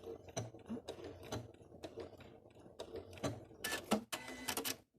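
An Elna Excellence 680+ sewing machine sewing a backstitch: rapid mechanical clatter with rhythmic needle ticks, ending in a few louder whirring bursts, close and alone.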